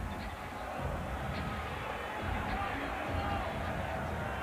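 NBA playoff arena crowd during a Timberwolves–Lakers game, a broad murmuring roar rising and falling in waves, moderately loud and continuous with indistinct chatter underneath.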